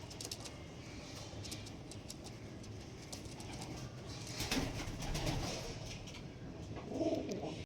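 Pigeons of high-quality fancy breeds such as Lalshira, Kalshira and Andra coo in a loft, a steady low murmur of calls running throughout, with scattered chirps and a fuller cooing swell near the end.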